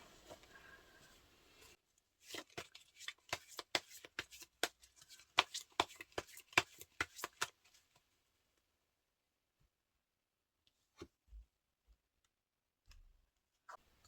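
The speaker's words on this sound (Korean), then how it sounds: "그러려면 어떻게 하는 것이 좋을지 좋은 카드 한 장 뽑아볼게요." Tarot cards shuffled by hand in a quiet room, a fast run of crisp riffling snaps for several seconds, then a few faint taps and soft thuds.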